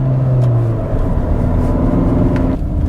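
A 2015 Kia Sportage 2.0 CRDi turbo diesel SUV engine drones loudly and continuously while accelerating, pitch shifting slightly as it pulls, with a steady low rumble throughout.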